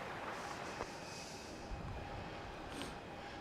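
A Garuda airliner takes off from Melbourne Airport with a distant, steady engine roar that holds a low, even rumble throughout, faint and continuous with no talk.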